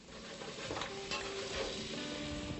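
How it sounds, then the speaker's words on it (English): Squash sweats gently in a pan, giving a soft, steady sizzle throughout, broken by a few quiet scrapes of a spoon stirring now and then. "I gently sweat the squash without browning it, and I stir a little now and again"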